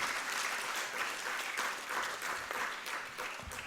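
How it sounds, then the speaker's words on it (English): Seminar audience on international taxation giving the speaker a round of applause, steady dense clapping from a crowd in a hall, fairly faint and even throughout. "Can we have a round of applause for the speaker"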